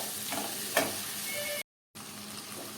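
Chillies and tomatoes sizzle in a hot pan as they are stirred, with a soft steady frying hiss, a couple of scraping utensil clicks, and a short gap of silence before the sizzling resumes.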